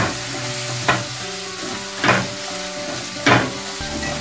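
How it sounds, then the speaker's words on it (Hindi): Egg keema fries in a hot pan, sizzling loudly and steadily up close, with three regular scraping stirs of a spatula cutting through the sizzle and no talk. "अब इसको अच्छे से थोड़ा सा फ्राई कर लेते हैं।"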